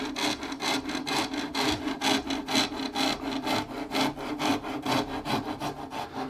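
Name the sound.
rasp carving a guitar neck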